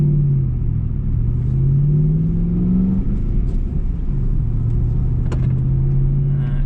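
Land Rover Discovery 3 with a 4.4 V8 engine and manual gearbox on a drive, giving a steady, close low rumble inside the cabin with gentle rises and falls in engine pitch and no talking.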